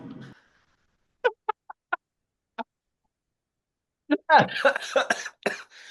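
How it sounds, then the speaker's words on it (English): A few short, sharp coughs spaced apart, then a burst of laughter-like vocal sounds near the end, close and fairly quiet. "every time I laugh, I cough."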